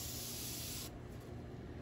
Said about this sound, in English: Before I spray my alcohol.